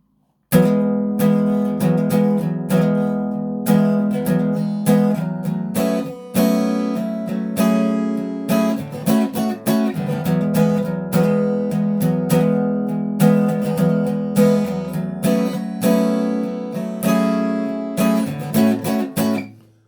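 Steady strummed acoustic guitar chords play the verse of a song, a continuous rhythmic pattern with regular accents and no voice, fading at the very end.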